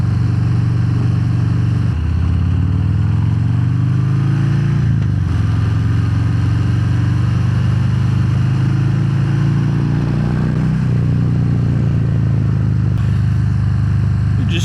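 A Harley-Davidson Fat Bob 114 cruiser engine thrums loudly and steadily while riding, its deep V-twin rumble rising and falling with throttle shifts and wind noise throughout.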